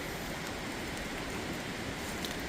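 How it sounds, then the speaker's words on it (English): Pouring rain outdoors in November, a steady, even hiss of heavy rainfall that stays constant throughout, with no talking. "it's pouring rain"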